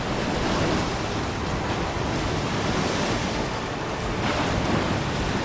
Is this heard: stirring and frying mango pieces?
no